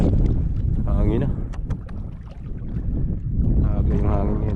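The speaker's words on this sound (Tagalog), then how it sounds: "Yung hangin yun ah." Storm wind roars and buffets the microphone during ultralight casting by the water, a heavy rumbling gusty wash that swells and dips, with brief voices briefly breaking through.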